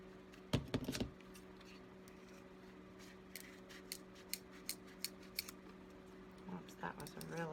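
Scissors snip repeatedly through zigzag deco mesh for a pouf-style wreath: a loud cluster of cuts near the start, then sparse single snips spaced through the middle and a few more toward the end, with steady room hum beneath.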